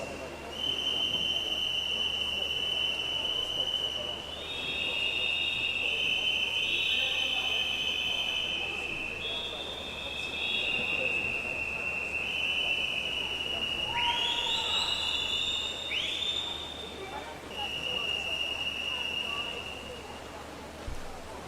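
Several shrill referee whistles, some long and some rising, sound over a noisy indoor pool crowd at a regional swimming championship.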